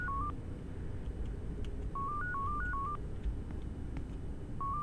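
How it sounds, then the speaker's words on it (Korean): A phone rings in the horror video game Yuppie Psycho with a warbling electronic trill in short bursts, separated by pauses, over a quiet low background hum. "전화가 왔네요."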